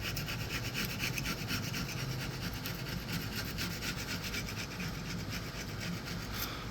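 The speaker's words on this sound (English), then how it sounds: "I'll keep scrubbing, and maybe get lucky." Old gasket glue is scrubbed off a surface in quick, continuous rasping strokes, close and steady for several seconds with no talk.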